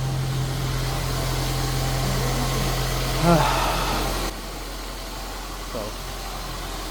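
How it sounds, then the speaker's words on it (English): A Honda Accord engine idles high on a cold start, a steady close hum with a constant low drone that drops in level partway through, while someone briefly talks over it. "Idle is high because it's a cold start."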